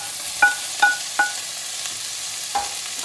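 Tomatoes frying in a pan, a soft steady sizzle with a few distinct clinks of a utensil scraping and tapping the pan as they are stirred.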